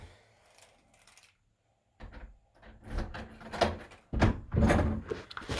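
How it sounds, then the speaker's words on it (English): A house door is pushed shut and locked indoors, giving a series of close wooden knocks, latch clicks and rattles after a short quiet pause. "And lock the door."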